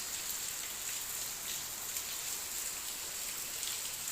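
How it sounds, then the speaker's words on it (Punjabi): Steady, dense rain pours down without a break, a continuous hiss of drops drumming on surfaces close by. "ਦੇਖੋ ਮੀਂਹ ਕਿੰਨਾ ਸੋਹਣਾ ਪੈ ਰਿਹਾ"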